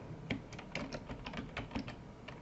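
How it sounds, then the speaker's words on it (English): Keys tapped on a computer keyboard while entering a search term into a search bar, a quiet, uneven run of clicks over a faint background hum, with no one speaking. "I'll simply type this into the bar"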